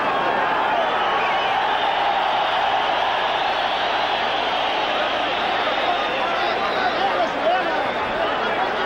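Steady, sustained roar of a large boxing crowd in Mexico City, a broad wash of cheering heard from ringside that holds without pause beneath a commentator's voice.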